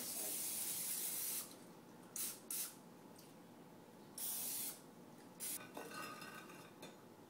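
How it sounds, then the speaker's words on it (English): Several short hissing sprays from an aerosol can of cooking spray onto a dish for raisin bread pudding, in bursts of a second or so, with quiet clinking of dishes between them. "Take your spray and spray your dish."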